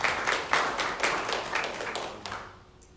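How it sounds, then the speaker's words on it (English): Opening-speech audience at a Dubai telematics conference claps for the co-exhibitors: a moderately loud, brief burst of many hands that fades out over about three seconds, with no voices over it. "This applause is for all the co-exhibitors, by the way."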